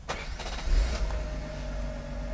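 A Mercedes W124 300CE cranks briefly and catches, its engine settling into a steady, even idle, close up with no talking.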